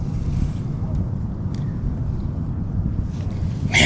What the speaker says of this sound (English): There's a little breeze